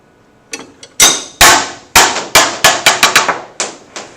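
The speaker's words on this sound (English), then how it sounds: "that first clank, before you heard the other one bouncing on the table, right, was both of them hitting the ground simultaneously" Metal projectiles in a horizontal launch physics demonstration strike a hard surface with one loud clank, then a rapid series of diminishing metallic bounces on a table, close and sharp in a quiet room.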